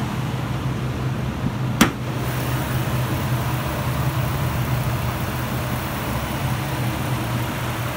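A 2016 Ford F-150 XLT with a 3.5 liter V6 idles steadily nearby, a low, even hum with a brief sharp click early on, otherwise unchanging.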